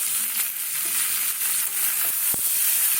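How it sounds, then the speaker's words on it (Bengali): Mixed vegetables fry in hot oil for khichuri made with Gobindobhog rice. The sizzle is loud and continuous, with occasional sharp clicks of stirring. "সবজিটা আমি আমি ভাজছি"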